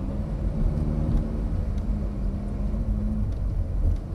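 A Ferrari F430 engine hums and rumbles steadily at low pitch as the car pulls away slowly in first gear, with no talking.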